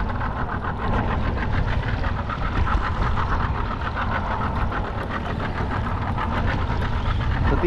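A boat engine idles steadily at close range while out chasing tuna in the deep waters off the Bahamas, a continuous low rumble with a faint rattling texture, no talk over it.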